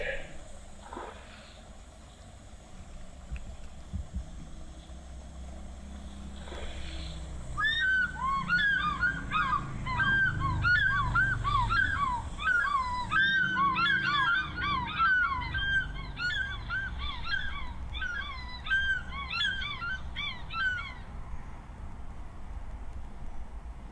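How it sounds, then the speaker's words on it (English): An African fish eagle pair gives a duet call at a waterhole, with rapid rhythmic yelping phrases from a distance. The calls rise over low ambient rumble and voices for about thirteen seconds. "The African fish eagle's calling for us, a duet call of the African fish eagle."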